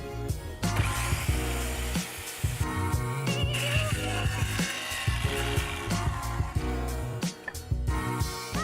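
A Daewoo DAS 1500-190 circular saw runs loudly with repeated bursts of whining cutting noise and brief pauses, close by and continuous for several seconds.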